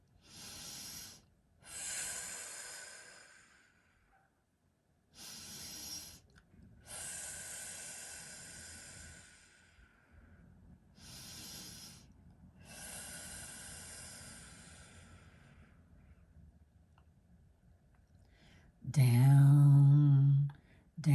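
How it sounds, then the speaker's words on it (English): Deep cleansing breaths taken slowly in a quiet room, a series of long airy inhales and exhales separated by pauses, ending with a louder, rougher snort-like breath. "We're going to go into alpha, starting with 3 cleansing breaths."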